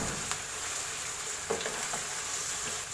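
Ginger garlic paste fries in a pan for a meat and pea curry, giving a soft, steady sizzle with a few faint stirring scrapes, close but fairly quiet.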